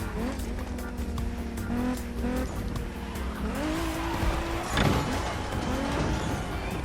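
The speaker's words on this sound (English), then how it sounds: "A bunch of cars racing past us there" Game cars in The Crew Motorfest race past with whining engines and squealing, skidding tires, a dense continuous rush of motor noise with rising pitch sweeps and a sharp burst near the end.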